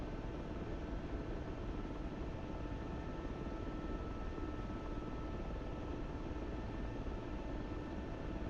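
A helicopter flies in a flight simulator, its rotor and turbine making a steady, dense, faint whooshing drone that holds level throughout with no talking.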